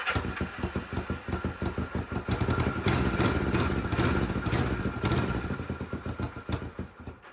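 A 1974 Honda CB450 motorcycle engine idles close by with a fast, regular lumpy pulse, steady and prominent.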